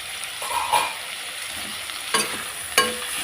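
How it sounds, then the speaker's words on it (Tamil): Brinjal masala sizzles in a pan while a spoon stirs it, with a constant frying hiss and a few distinct scraping strokes against the pan, close and without speech. "நல்லா ஒரு கிளறிடுவோம்."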